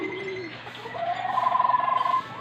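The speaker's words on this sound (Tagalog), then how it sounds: "Yan mga kalapatids." Racing pigeons at a training release in Balagtas, Bulacan coo softly in a short, fluttering burst of low throaty calls, fairly close, with faint background noise and no talk.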